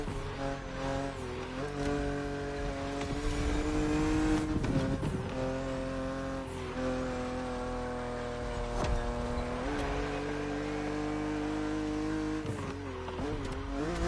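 A BMW Z roadster races against an aggressive opponent in The Crew Motorfest, its engine droning steadily with shifts in pitch as it accelerates and backs off, occasional tire noise, and music-like tones layered throughout.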